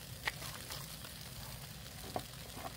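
Tofu sizzles on a flat-top griddle with a low, steady frying hiss and a few faint clicks of a spatula, quiet and unaccompanied.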